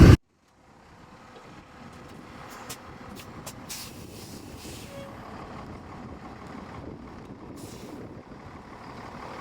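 A 2016 Entegra Anthem RV creeps forward in winter, its low engine rumble steady and fairly close, with a few short clicks and higher noises above it after a sharp thump at the very start.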